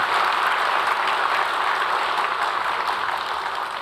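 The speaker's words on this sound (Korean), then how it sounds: "우리 MC를 맡고 있는 두 어린이에게 큰 박수 좀 부탁드리겠습니다" Applause from the crowd for two child MCs at the opening of a Korean regional-era government expo, a steady, even wash of clapping at moderate volume with no pauses.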